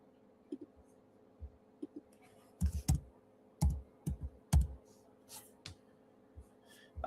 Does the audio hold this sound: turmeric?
no